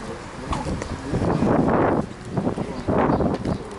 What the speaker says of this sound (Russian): Ветер такой, что сдувает